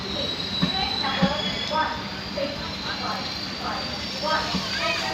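A passenger train arrives at a platform of an Indian railway station. Wheels squeal and rumble steadily, with repeated clanks as the carriages roll in, and a voice is faintly audible in the background.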